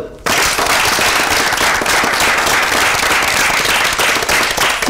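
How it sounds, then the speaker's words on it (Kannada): Children clapping loudly together on cue, a dense burst of hand claps that starts abruptly and continues steadily at full volume. "ಎಲ್ಲ ಒಂದ್ಸಲ ಜೋರಾಗಿ ಚಪ್ಪಾಳೆ ಹೊಡಿತೀರಾ"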